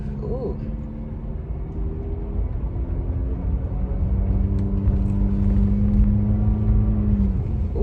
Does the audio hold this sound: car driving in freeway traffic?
yes